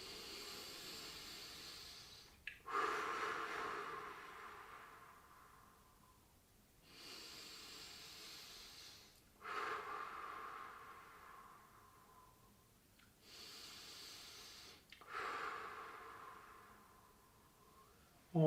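Three long, slow breaths during a gentle seated neck stretch, each a soft drawn-out inhale and exhale, faint and close, with quiet pauses between them.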